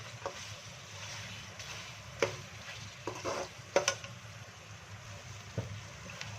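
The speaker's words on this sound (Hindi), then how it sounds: "प्याज, अदरक, लहसुन आपने इस तरीके से डालकर इसकी अच्छे से हमने भुनाई करनी है" Onion, ginger and garlic fry in a pot with a low steady sizzle, while a spoon stirs and scrapes against the metal in sharp occasional clinks, close by.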